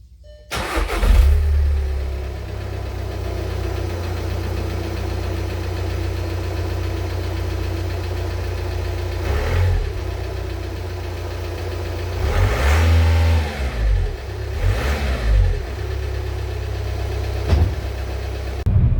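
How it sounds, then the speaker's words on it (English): A Volkswagen TDI diesel on its stock exhaust starts up semi-cold, settles into a steady rumbling idle, then gets several short, loud revs near the end with no talk. "this is the stock exhaust, semi-cold startup"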